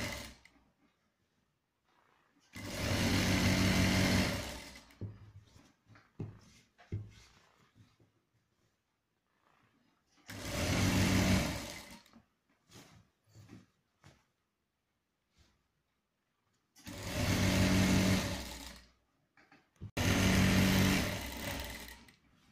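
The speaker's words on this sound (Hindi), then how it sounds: "इसको पकड़ के यहाँ से भी अपन इसे सिलाई लगा देंगे।" Sewing machine stitching a churidar pajama in several bursts, each running steadily for a couple of seconds before stopping, with quieter handling noises between the runs.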